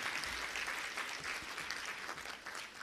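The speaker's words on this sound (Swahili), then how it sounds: "Basi tena kwa niaba ya Watanzania wote tumpe makofi mengi Mheshimiwa Rais." Audience applause at a government ceremony in Dodoma, Tanzania, honoring the President, a broad sustained wash of many hands clapping from across a hall, steady and somewhat distant.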